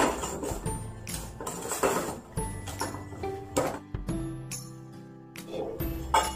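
A mixture is stirred in a pot for cream puff dough with vanilla and salt, the utensil knocking and scraping against the metal in repeated close clinks and rasps in an uneven rhythm.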